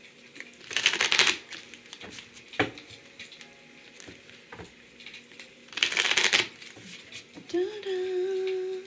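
Magical Lamp Oracle cards shuffled in two brisk bursts of rapid papery riffling, with scattered soft taps and handling noises between them and a faint tonal sound near the end.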